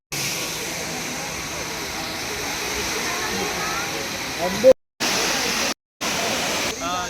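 A waterfall fed by a pipe at Kodaikanal roars as a steady, broad rush of falling water, loud and close, broken by a couple of abrupt cuts near the end.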